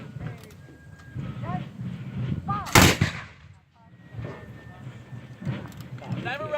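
A squad fires a musket volley in one loud, sharp crack at mid-clip, with people talking before and after.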